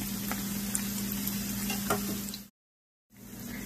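Plantain and dumplings fry in a pan, a close, steady crackling sizzle with a low hum underneath, cut off by a brief silence before resuming.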